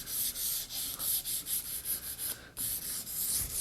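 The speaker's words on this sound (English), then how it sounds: "run your sandpaper over the waxed surface here. Take some of the wax finish off that they've put on" Sandpaper rubbed back and forth over a waxed wooden axe handle to strip the finish, a close, rhythmic series of rasping strokes with a brief pause partway through.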